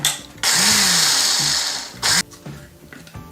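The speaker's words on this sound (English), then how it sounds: "if you have a Ninja or a food processor, just throw it in the single serve cup and grind it up" A Ninja food processor's single-serve cup grinds rolled oats in a loud, steady whirring burst of about a second and a half, followed by a shorter second pulse, with quieter handling noise in between.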